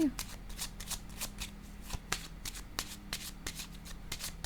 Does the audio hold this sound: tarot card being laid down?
yes